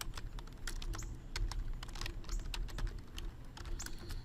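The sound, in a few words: typing on a computer keyboard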